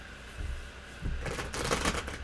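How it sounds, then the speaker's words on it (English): Tarot cards being shuffled by hand, a few soft riffles early, then a louder, close, rapid flurry of papery flicks in the second half. "One more shuffle, Mr. O."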